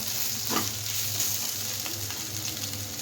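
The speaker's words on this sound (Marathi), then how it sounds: "आपण बटाटा टाकलेला आहे. आपण त्याला उलटपलट करूया." Potatoes sizzling in oil in a pan and being turned over, a constant close hiss with a few soft scrapes of a spatula, no speech.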